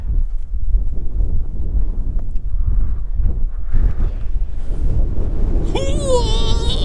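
Strong wind on a high mountain pass, Rollins Pass, buffets the microphone in a constant low roar, with a brief whistling tone near the end.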